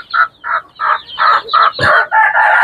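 A series of eight loud, close clucking calls from native hill chicken chicks in quick succession, each a short raspy burst with brief gaps between them.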